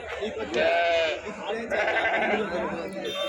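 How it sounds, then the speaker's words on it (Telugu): Sheep bleating at a Tuesday livestock market in Kadiri, several wavering calls near and loud over a background of crowd chatter and people talking. "అన్ని గొర్రెలు ఉన్నాయి"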